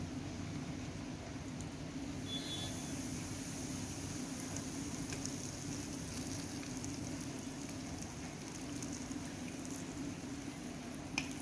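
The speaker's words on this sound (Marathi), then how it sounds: "आता असा हा हिंग तळला जातो" Asafoetida frying in hot oil, a steady soft sizzle and crackle that stays even and fairly faint throughout with no voices.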